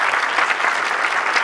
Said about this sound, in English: Give yourselves a round of applause for being here so late on a Sunday night.